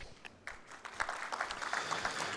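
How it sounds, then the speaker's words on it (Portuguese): An audience at a health summit stage event applauds to welcome a speaker, the clapping starting sparse and building into steady applause, heard at a moderate distance. "Eduardo Matias Tarouco, CEO da Xventures, a quem nós convidamos para que suba ao palco com os nossos aplausos de boas-vindas"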